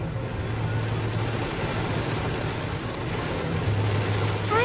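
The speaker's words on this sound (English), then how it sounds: "Look at the rain." Steady heavy rain falling during a downpour in Palm Coast, a dense continuous hiss with a low rumble underneath, constant and close, with no voices.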